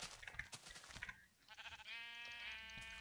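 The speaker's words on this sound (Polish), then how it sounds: "Czekaj, owce bije." A sheep in the Minecraft video game bleats in short, wavering cries that are close and clear, a brief burst of game noise sounding between them.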